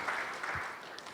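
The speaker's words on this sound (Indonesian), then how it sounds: "Mari yang percaya berikan tepuk tangan." A short burst of applause from a church congregation during a Sunday service, a brief wash of clapping.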